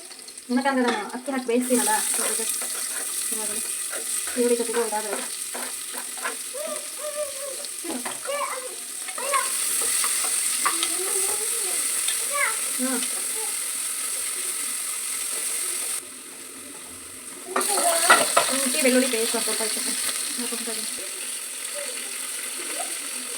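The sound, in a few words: onions and green chillies frying in a pan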